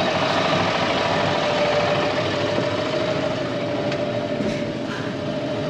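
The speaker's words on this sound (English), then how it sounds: "We're in the new Fendt, pulling a new baler" A new Fendt tractor pulls a new hay baler, its steady engine drone and mechanical rumble filling the whole stretch loud and close, with a constant hum and no speech.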